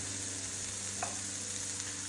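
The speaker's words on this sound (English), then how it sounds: "Our Brussels sprouts, which are still sizzling," Brussels sprouts sizzle steadily in a hot pan, a constant crackling hiss with a couple of faint clinks.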